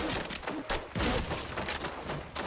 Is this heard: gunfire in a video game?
yes